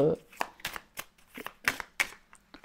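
Tarot cards handled and laid down on a table during a reading, a series of short crisp slaps and shuffles in an uneven rhythm, close and moderately loud, with faint talk around them.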